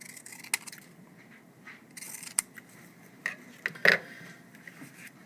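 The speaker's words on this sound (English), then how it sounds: "I'm going to cut 2 of them off here." Scissors cut small paper code slips in a few separate snips. The sharp crisp cuts come up close against quiet room sound, with short rustles of paper between them.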